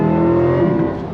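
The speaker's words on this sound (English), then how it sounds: "once you go on throttle, the engine comes alive" A Chevy Corvette E-Ray engine coming alive on throttle, a loud, close, steady tonal drone with a rich low hum and no talk.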